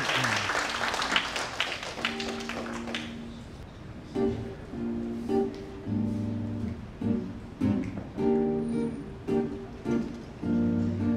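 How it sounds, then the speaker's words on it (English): An audience at a cultural medallion event applauds loudly for about three seconds, then the clapping dies away as a voice begins singing over accompaniment. "Let's give her a round of applause again."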